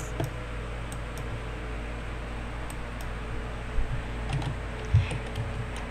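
Keys clack on a computer keyboard while typing a chat message in a Roblox game, a quick irregular run of close taps with a couple of heavier key strikes near the end, over faint fan noise.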